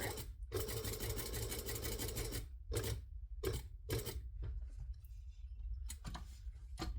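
A sewing machine stitching a zipper overlay at its slowest speed, running in steady whirring bursts broken by short pauses, close up and alone.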